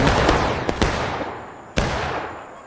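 Union artillery booms in a Civil War video game battle set in the Maryland Campaign: a rumbling barrage with sharp, loud blasts cracking through near the start and middle, each followed by a decaying roar.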